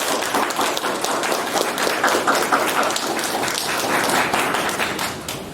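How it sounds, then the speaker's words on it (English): Rounds of steady applause from a seated crowd greet a graduating Navy class at a graduation ceremony, a continuous dense patter of many hands at moderate volume that fades slightly toward the end. "I would like for all of us to give a round of applause to Class 31."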